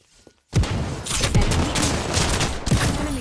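Gunfire in a ranked team shooter game bursts in suddenly after a half-second lull, then continues as dense, loud, rapid shots with heavy thumps for about three seconds.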